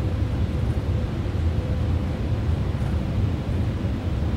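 Gusty wind buffets a Boeing 777-300ER in Microsoft Flight Simulator, a steady low rushing roar with mild surges, heard alone with no talk.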